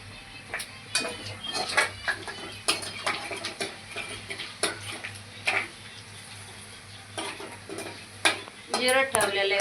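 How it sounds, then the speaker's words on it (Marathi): Cumin seeds sizzle in hot oil in a pan while a spoon stirs and scrapes, making repeated sharp clinks and scrapes over a soft, steady frying hiss, close up. "जिरं ठेवलेलं आहे भाजायला."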